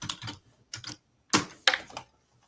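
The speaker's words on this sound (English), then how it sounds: "I'm going to type it, please." Typing on a computer keyboard, heard as several short bursts of key presses with brief pauses between them, close and fairly quiet with no talking over it.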